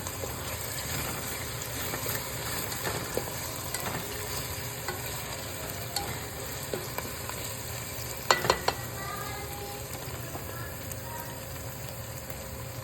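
Red onions fry in a pan with a steady low sizzle, occasional spatula scrapes and a few sharp clinks near the middle, close and continuous.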